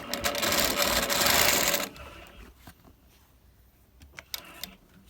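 A longarm quilting machine stitches quilt binding with a loud, fast motor hum for about two seconds, then quieter handling and a few light taps.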